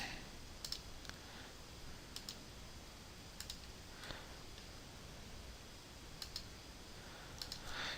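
Sharp computer mouse clicks sound in drawing software, scattered singly and in quick pairs against a quiet room background, close and fairly crisp.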